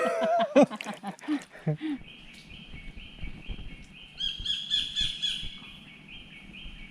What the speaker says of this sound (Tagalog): Ganda ng tunog ng ibon.